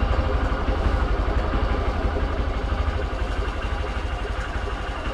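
A motorcycle engine idles close by with a steady, low, rumbling putter that stays even throughout, with no talking.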